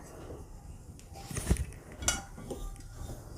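Cooked gujiya filling being scraped from a pan into a bowl: a few soft clinks and scrapes of a metal utensil against cookware, close by over a quiet kitchen background.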